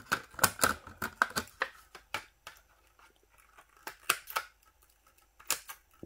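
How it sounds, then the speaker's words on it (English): Scissors snip open a Hot Wheels blister pack, with a series of sharp close plastic clicks and cracks coming in quick clusters and short gaps, no talk. "You got to be very careful when you're using scissors to open the blisters"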